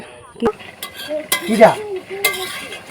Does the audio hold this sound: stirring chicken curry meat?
yes